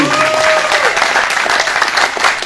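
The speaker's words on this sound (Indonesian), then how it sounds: "Ini maksudnya apa tepuk tangan begini?" Crowd applause breaks out during a religious lecture, a loud burst of many hands clapping close by with a tonal whistle or hum over it early on, steady throughout.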